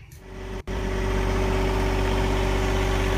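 John Deere tractor with backhoe attachment, its engine cranking briefly then catching and settling into a steady, loud, close idle with a deep rumble that holds to the end.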